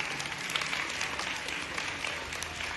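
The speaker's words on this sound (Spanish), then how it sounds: "fuerte los aplausos para la tierra que han nacido" A school assembly crowd at a student council swearing-in ceremony applauds loudly, a thick continuous roar of many hands clapping that holds steady with no speech over it.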